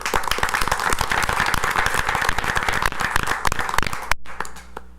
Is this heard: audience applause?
yes